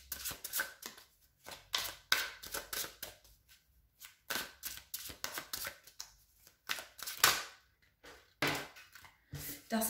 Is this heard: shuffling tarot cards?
yes